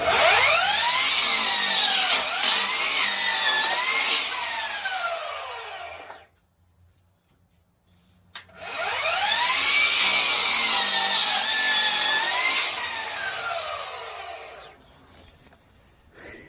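A Hercules power saw winds up with a rising whine and then cuts through a board, giving a loud, close cut with a shifting pitch. It goes quiet briefly, then the saw spins up and cuts again.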